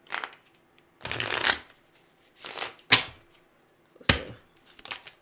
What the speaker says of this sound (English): Let me get one card from this deck.